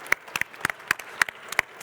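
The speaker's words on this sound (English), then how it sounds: "huge round of applause to give him the strength to carry on." Sparse, scattered handclaps from a small conference audience, about a dozen distinct claps spread unevenly over a couple of seconds.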